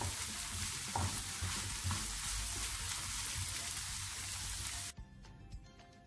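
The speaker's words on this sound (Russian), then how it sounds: "Буду лук обжаривать до золотистого цвета" Onion frying in vegetable oil in a heated pan, a steady close sizzle with stirring that cuts off abruptly near the end.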